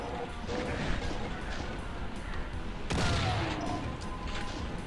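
Enemy fireball attacks in the KDiZD Doom mod video game, a handful of crunchy blasts and impacts, the loudest burst arriving near the end amid rumbling game noise.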